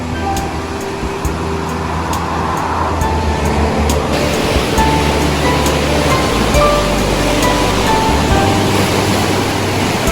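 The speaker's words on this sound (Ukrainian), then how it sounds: "Тиса розбушувалася." Loud, roaring rush of the rain-swollen Tisza River, a constant churning torrent with no voices.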